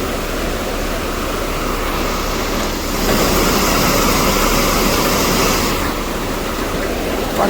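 Heavy rain pours outside amid strong gusting wind, a dense, steady wash of broadband noise that swells louder in the middle stretch before easing back.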